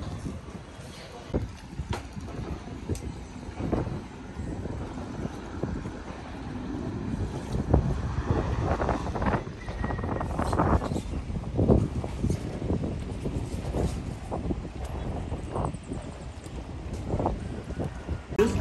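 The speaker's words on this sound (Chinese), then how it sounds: "那个微风吹过来，特别特别凉爽，特别惬意" Breeze blowing over a boat travelling on the Mekong River at a floating market, heard as steady, gusting wind rumble against the microphone with intermittent bumps and faint background noise throughout.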